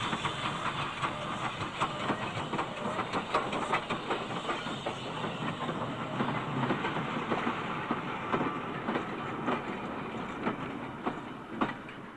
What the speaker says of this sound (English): 53807 on a down goods slows on the final approach to Evercreech Junction.